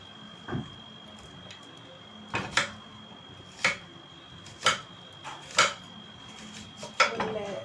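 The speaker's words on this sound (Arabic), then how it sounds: "قطع البصل كده شرايح،" An onion is sliced with a knife on a board while preparing sausages with peppers: about seven sharp, separate clicking cuts at an uneven pace, close and clear over quiet background.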